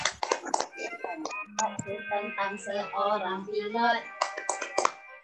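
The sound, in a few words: hand clapping in the tepuk pilot clapping game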